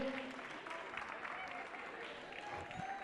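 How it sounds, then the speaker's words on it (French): Applause for the FX Dance School at a francophone community show continues as a steady crowd clapping, moderately distant, with some voices mixed faintly into the wash. "Voilà, on les applaudit bien fort"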